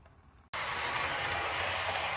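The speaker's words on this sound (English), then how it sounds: "Even at throttle setting 99, the locomotive is very quiet. It's moving along." An Atlas GP40 model locomotive on a DCC chassis runs at full throttle, giving a steady, quiet motor whir that starts abruptly and holds even, close by and alone.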